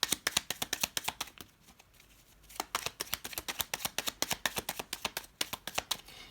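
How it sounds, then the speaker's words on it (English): Tarot cards shuffled by hand, a quick series of crisp riffling slaps and flicks close to the microphone, with a short pause partway through before the rhythmic shuffling resumes. "If you do not want to see me shuffling,"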